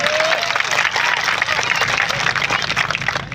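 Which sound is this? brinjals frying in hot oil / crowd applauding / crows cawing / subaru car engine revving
crowd applauding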